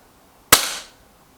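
A single sharp shot from an Artemis P15 air pistol during a target card match, a crisp close crack with a short decaying tail and quiet before and after.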